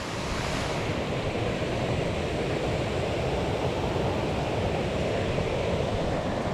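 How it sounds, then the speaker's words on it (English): A small river cascade on Big Branch in Vermont rushes in a steady, close, full roar of falling water, with no talk. "Nice little cascade right there."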